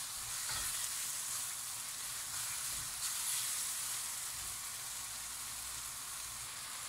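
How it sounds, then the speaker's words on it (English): Steady, loud sizzling of vegetables and curry paste frying in a hot pan for vegetable jalfrezi, a continuous crackling hiss with occasional stirring noises, no voices. "So just want to keep frying that."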